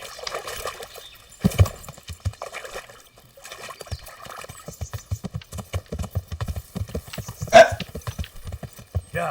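Horse hooves clip-clop in the video game Kingdom Come: Deliverance, a steady rhythmic beat of a ridden horse moving through shallow water and woods, with a splash and whinny-like burst near the end.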